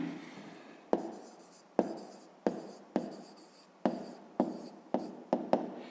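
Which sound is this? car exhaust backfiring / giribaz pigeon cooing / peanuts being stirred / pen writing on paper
pen writing on paper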